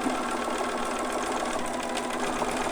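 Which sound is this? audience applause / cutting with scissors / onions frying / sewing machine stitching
sewing machine stitching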